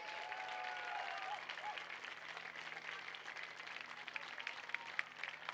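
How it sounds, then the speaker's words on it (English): Crowd applause at a high school softball state championship, steady scattered clapping from the stands with some cheers and a low background hum, moderately distant. "Let's give these teams a round of applause for their great success."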